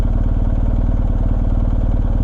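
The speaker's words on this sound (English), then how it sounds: "I've got the clutch pulled all the way in, and I'm probably going to stall the bike on purpose here" A BMW R1250 GSA boxer engine idles close by as the clutch is slowly let out toward stalling, a loud steady low pulsing throb with rapid even beats and no speech.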